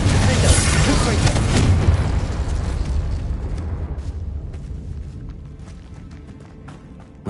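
Confringo spell explosions in Hogwarts Legacy: a loud, rumbling blast that fades out over several seconds, with a sharp pop right at the end.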